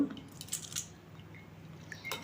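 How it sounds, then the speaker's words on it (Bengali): Soaked rice draining in a perforated colander gives a few soft drips and wet squishes, close and quiet, with a brief clatter at the start. "এরপর আমি একটা ছাঁদা পাত্রে আমি চালটাকে ছেঁকে নেব"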